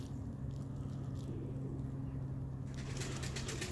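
Iraqi short-beaked fancy pigeons, a smoky-coloured hazel-beak breed, coo softly and low under a steady background hiss and hum, faint and continuous.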